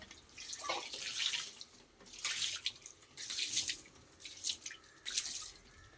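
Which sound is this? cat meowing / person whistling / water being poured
water being poured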